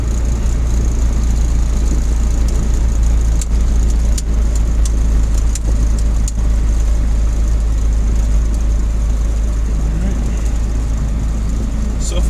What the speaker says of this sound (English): this engine is so small, it's pulling enough air to run the idle speed way up